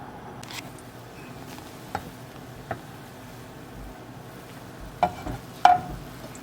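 Mushroom soup ingredients cooking over high heat in a pan, a faint steady sizzle with a few scattered clicks and stirring knocks, no talk.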